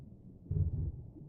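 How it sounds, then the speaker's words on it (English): A heartbeat effect in the horror video game Pressure, a faint low muffled thump pulsing briefly near the listener, with no talk. "you can hear the heartbeat."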